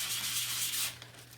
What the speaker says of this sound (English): so let's give this a sand.